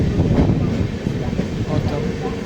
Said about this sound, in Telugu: ట్రైన్ స్లోగా వెళ్తుంది, అంటే మేము వెనకాల ఉన్నాం